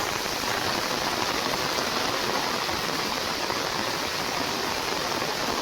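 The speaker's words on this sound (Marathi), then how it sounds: "बाहेर पाऊस खूप पडतो जोरात" Heavy rain pours down in a forest in a dense, unbroken roar, loud and constant with no other sounds.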